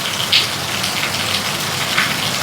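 Heavy rain falls hard and steadily, a dense, constant hiss with brief louder gusts of splashing, heard up close and without any voices.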